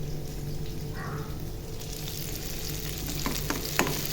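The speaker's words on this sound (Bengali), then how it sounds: "আমি পেঁয়াজটা ভাজতেছি" Onions frying in a pan, a close, steady sizzle with a few stirring clicks near the end.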